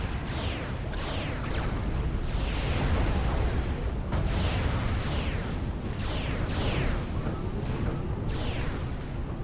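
Point defense towers fire repeatedly in the real-time strategy battle of Supreme Commander: Forged Alliance, a dense barrage of sharp shots and booms recurring every second or so over a continuous rumbling battle din.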